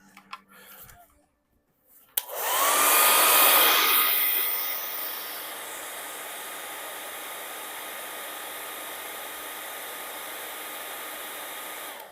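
A hair dryer switches on after a few faint handling clicks, roaring loudly at first and then settling into a steady, close, even blowing hiss that continues to the end.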